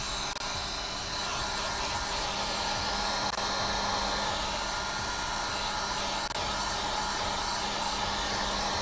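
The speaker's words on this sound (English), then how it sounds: "Okay, so now grab your trusty heat gun." A heat gun runs continuously with a steady, loud, close blowing roar while shaping an Air Jordan 1 sneaker on the last, no talking.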